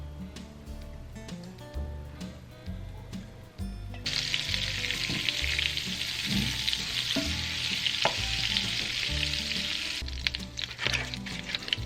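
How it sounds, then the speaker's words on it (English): Butter and oil sizzle in a skillet over medium heat, a loud continuous frying hiss that swells midway, with scattered clinks and background music throughout. "Add your butter to the skillet over medium heat"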